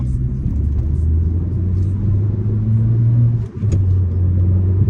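A Suzuki Swift Sport 1.6 VVT 136 hp engine revs hard and climbs in pitch as it accelerates through second gear, loud and close, with a short dip before pulling strongly again.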